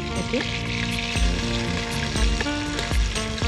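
Meat browning in a pot for a pot roast, a loud steady sizzle with recurring low thumps and clanks as it is moved, close up, over a constant tonal background hum.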